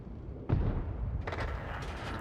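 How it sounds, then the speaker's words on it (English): A tank gun fires once in World of Tanks on the Ensk map, a sharp close boom that rolls into a longer muffled rumble and fades out. "as soon as he backs out, I should be able to do a shot"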